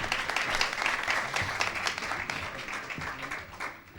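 An audience at an architecture lecture applauds the speakers, a continuous round of clapping with some voices mixed in, fairly distant and moderate, tapering slightly at the end.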